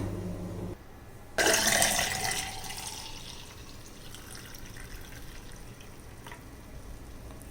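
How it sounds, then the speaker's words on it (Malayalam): Homemade lemon juice is poured into a glass: a sudden close splashing pour starts after a short quiet moment, stays strong briefly, then tapers to a soft trickle. "നമുക്കിതൊരു ഗ്ലാസ്സിലേക്ക് ഒഴിക്കാം."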